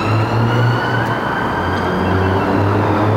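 An ambulance siren wails loudly on a street in Northern Ireland, its two-tone pattern cycling steadily and close by for the whole stretch, with no talk over it.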